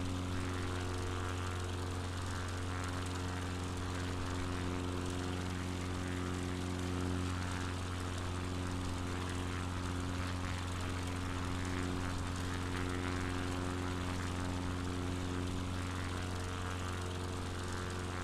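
A propeller airplane engine at full throttle in Microsoft Flight Simulator 2020 on a Patagonia bush flight, giving a loud, steady droning roar with a constant tone that holds throughout, with no one talking.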